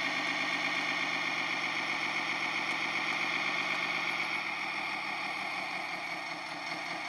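Large RC truck, a 10x10 Optimus Prime replica, driving its off-road trailer, heard as a steady, buzzing electric motor whine with a continuous pulsing texture throughout.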